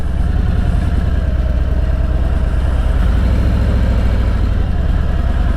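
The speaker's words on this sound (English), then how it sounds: "if I hit the throttle, the bike doesn't pick up speed because I'm in that sweet spot" A motorcycle engine idles steadily with the clutch held at its engagement point, a continuous close, low rumble with slight rises as the throttle is nudged.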